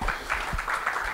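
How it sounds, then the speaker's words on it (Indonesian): An audience at a hybrid HKHPM seminar applauds the speaker Pak Junaidi, giving a soft, steady patter of many hands clapping, heard at a modest distance in the hall. "Kita beri aplaus dulu untuk Pak Junaidi ya"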